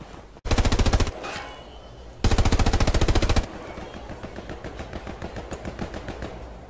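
In a first-person shooter game, automatic gunfire comes in two loud, rapid, evenly spaced bursts, followed by quieter, irregular shots and impacts that sound like bullets striking enemy soldiers' helmets.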